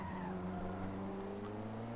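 A race car engine in Assetto Corsa holds a steady, droning tone while overtaking another car, a continuous close mechanical whine with faint tire noise, no talking.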